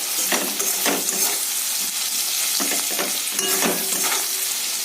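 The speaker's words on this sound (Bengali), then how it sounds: "এই মশলাটা আমি ভালো করে একটু কষিয়ে নেব" Ground cumin and spices frying in oil in a pan while being stirred, a loud continuous sizzle with repeated scraping strokes of a spoon.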